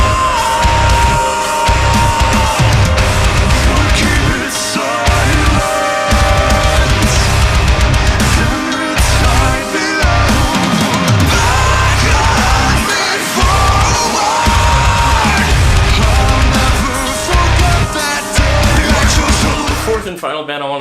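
A heavy metal track from a band's debut album, with dense distorted guitars, pounding drums and harsh shouted vocals, loud and continuous throughout.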